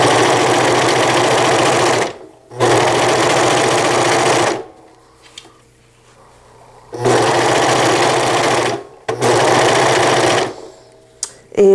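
A serger sewing machine stitches fabric around a curve in loud, steady whirring runs of about two seconds each, separated by brief pauses and one longer quiet gap.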